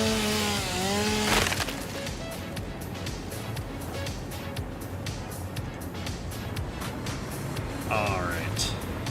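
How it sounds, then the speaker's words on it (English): A chainsaw cuts through wood in the factory-building video game Satisfactory, a steady buzzing, rasping drone that runs throughout at moderate loudness while a voice talks over it. "I'm gonna get the chainsaw back out for a bit too."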